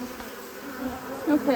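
Honeybees buzzing at an opened beehive, early morning with no smoke used, forming a steady, close droning hum that swells louder toward the end.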